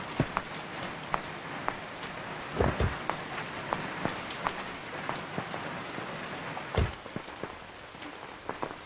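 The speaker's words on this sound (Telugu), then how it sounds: "ఇంత వర్షం" Heavy rain pours steadily in a Telugu film scene, a dense constant hiss of drops on surfaces with scattered sharp splashes and a couple of low thudding rumbles, with no voices.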